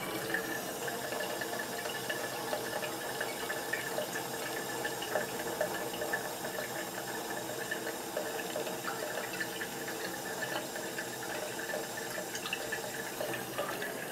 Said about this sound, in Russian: Пока еще течет нормально.